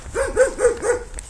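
A dog barks on a roadside during a long-distance run, a series of four or five rhythmic, moderately loud barks that carry over steady background noise.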